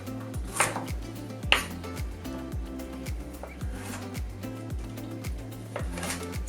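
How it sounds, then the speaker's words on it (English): Steady knife chopping of carrots on a cutting board, quick regular taps close by with a couple of sharper knocks, no talking. "So I'm chopping up about 2 carrots right now."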